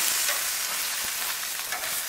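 Thick steaks sizzle in a hot pan, a close, steady crackling hiss with fine popping and spitting throughout.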